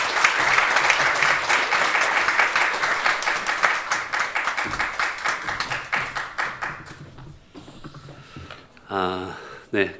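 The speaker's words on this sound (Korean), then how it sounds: "앞으로 나오실 때 큰 박수로 환영하겠습니다." A church congregation at a Sunday afternoon service claps loudly to welcome the visiting pastor; the dense applause gradually thins into scattered claps and fades, and a voice begins speaking at the end.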